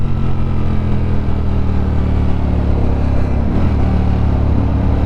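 A Ducati Streetfighter V4S motorcycle on a test ride gives a loud, steady engine drone that holds an even pitch throughout, with a slight wavering near the end and no talk over it.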